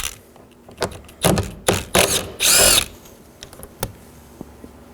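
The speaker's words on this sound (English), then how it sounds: "we are going to locate a 10mm bolt. You want to remove that." A power tool spins out a 10mm bolt near the master window switch inside a 2013-2019 Nissan door, with a few short clicks and whirs and then one loud sustained burst, close up.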